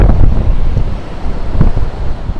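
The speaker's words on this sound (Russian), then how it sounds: "Ветер ярко выраженный, присутствует." Strong wind buffets the microphone on a cloudy February seashore near Nha Trang and Cam Ranh, Vietnam, loud gusting roar over the wash of rough sea waves, with no voices.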